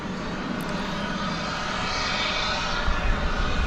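An airliner takes off from DFW Airport on runway 18 Left, its engines producing a steady, broad jet roar that swells slightly toward the end, loud and continuous with no voices.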